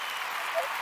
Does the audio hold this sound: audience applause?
yes